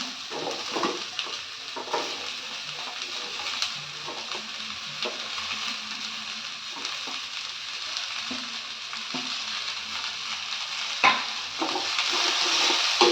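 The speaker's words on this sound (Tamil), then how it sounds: "இப்போ இதை தண்ணி ஊற்றாமல் கொஞ்ச நேரம் எண்ணெயிலே வதக்கி எடுத்துக்கலாம்." Chopped cabbage sizzles in hot oil in a pan while being stirred, a continuous frying hiss punctuated by repeated scraping and clinking of a utensil against the pan, close and without talk.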